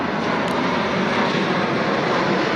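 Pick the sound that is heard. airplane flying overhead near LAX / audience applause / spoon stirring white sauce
airplane flying overhead near LAX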